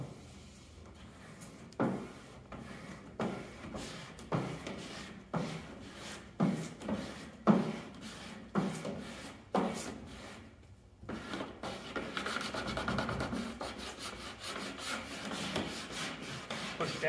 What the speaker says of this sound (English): Squeegee.